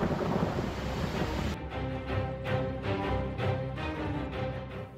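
Torrential monsoon rain pours down in a mountain area with a constant heavy hiss. Low rumbling thunder and gusts come through underneath, fairly quiet overall.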